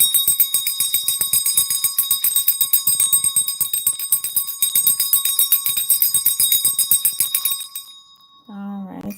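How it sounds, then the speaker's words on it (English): A handheld bell rings in rapid, continuous jingling strokes for about eight seconds, bright and close, then stops; a brief low tone follows at the end. "don't be alarmed with the rings, you guys. I have a bell."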